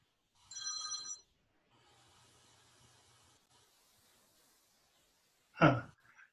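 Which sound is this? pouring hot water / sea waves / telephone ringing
telephone ringing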